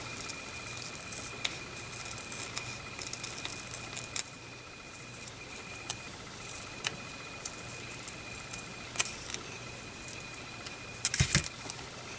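Scissors cutting around a magazine clipping laminated with tape, a series of small, close snips and crisp clicks spread irregularly over a quiet room, with a louder cluster of snips near the end.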